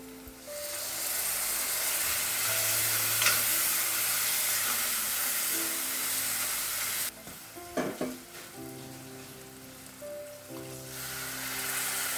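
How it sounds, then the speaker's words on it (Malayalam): Chana masala powder mixed in water is added to sautéed onion masala in a pan for a chickpea curry, sizzling and frying steadily with spoon stirring, a louder burst of sizzle as the paste hits the hot pan midway. "വഴറ്റി മൂത്ത് വന്ന മസാലയിലേക്ക് നമ്മൾ കലക്കി വെച്ച ചനാ മസാലപ്പൊടി ചേർത്ത് കൊടുക്കും"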